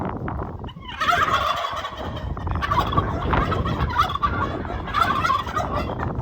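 Turkeys gobble repeatedly in loud, rattling bursts, several birds overlapping close by with barely a pause between calls.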